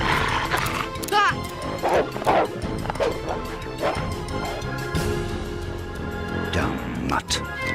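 A cartoon dog, commanded to attack in the Mummies Alive animated series, barks and yips loudly amid crashing smashes and a whimper, with characters shouting over the commotion.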